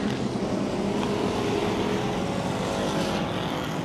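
Thunderstock race cars roar down the backstretch of Ohsweken Speedway in a steady, loud engine drone that holds without a break for the whole stretch.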